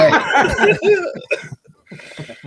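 A short burst of harsh coughing mixed with throaty, laugh-like sounds, close and fairly loud, followed by a pause and a softer, rougher cough.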